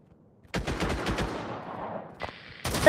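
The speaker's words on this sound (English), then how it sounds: "why did we shoot at him?" Video game gunfire sounds as a rapid burst of automatic shots, close and loud, followed by a brief tone and another sharp blast at the end.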